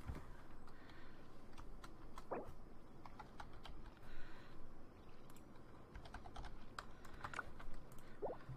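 Steady, rapid keystrokes on a computer keyboard during a game session, close and continuous with no voices.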